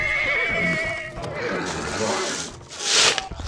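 A horse in the medieval combat video game Chivalry 2 lets out a loud, close whinny amid clattering hooves and scuffling game noise.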